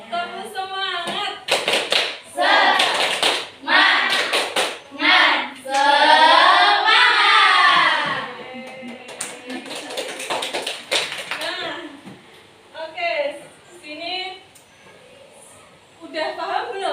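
A school class performs a 'tepuk semangat' rhythmic clapping chant, with bursts of patterned hand claps mixed with voices chanting along. A teacher talks between and after the clapping rounds.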